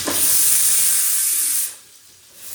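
Potatoes hit a hot pan of oil and whole spices, giving a loud, steady sizzling hiss that fades abruptly partway through, leaving a quieter low sizzle.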